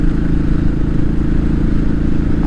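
Royal Enfield 500 motorcycle engine running steadily while riding, a loud continuous low thrum with dense harmonic rumble and wind noise throughout, no speech.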